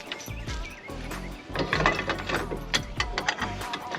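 A ratchet clicks rapidly in several short runs while bolts with flat washers are tightened on a truck skid, close up amid metallic handling clatter.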